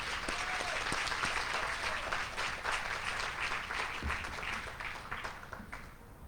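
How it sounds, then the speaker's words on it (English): A crowd applauds at a guide dog class graduation ceremony, steady dense clapping filling the room throughout and tapering slightly toward the end. "how about a big round of applause for everybody involved in getting us here today?"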